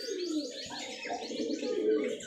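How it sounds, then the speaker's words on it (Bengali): A matched pair of domestic pigeons, local Giribaj birds, coo softly and repeatedly close by, a run of rolling, throaty calls with a few faint chirps over them. "খুব সুন্দর সেট মিলানো এক জোড়া কবুতর"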